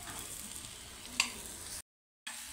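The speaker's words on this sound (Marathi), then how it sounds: "तर व्यवस्थित आता वांगी आणि हे सर्व मिश्रण मिक्स करून घेऊ। तर बघा, व्यवस्थित असे परतवून घेतले सर्व।" An eggplant and potato mixture stir-fried in a pan makes a low, steady sizzle with one brief clink partway through, then a short silent gap before the faint hiss comes back.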